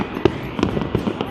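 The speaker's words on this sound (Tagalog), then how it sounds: "Nanonood na kami ng fireworks." New Year's Eve fireworks bursting overhead: four or five distinct pops and crackles spaced about every third of a second, moderately loud against a steady outdoor background, with no talking.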